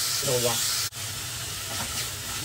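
Onion, garlic, tomato and ginger sautéing in a pan give a loud continuous steamy hiss and sizzle, briefly cut by a short gap, with a voice speaking faintly underneath.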